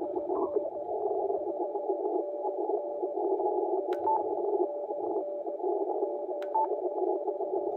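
A CW Morse signal comes through a Yaesu FT-710 amateur radio receiver at its default DSP setting: a steady, fairly faint tone over a hissy band-limited background, with occasional tiny clicks.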